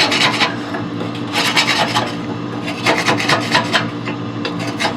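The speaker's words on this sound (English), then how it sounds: "scrape down in your burn pot" A scraper grinds down inside the burn pot of a Harman pellet stove, giving loud, rough metallic rasping in several close bursts of back-and-forth strokes separated by short pauses.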